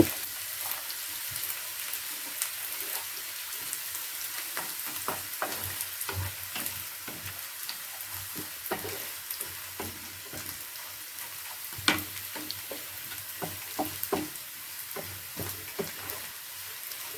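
Garlic and ginger frying in hot oil for a lemon pickle, giving a quiet steady sizzle broken by scattered clicks and scrapes of a stirring spoon, with no talking.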